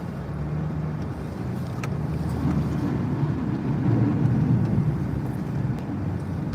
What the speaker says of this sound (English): Truck pushes it with ease, of course.